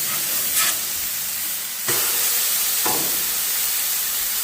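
Smash burger patties fry on a hot griddle with a constant loud sizzle, punctuated by a few brief scraping swipes as they are worked and flipped.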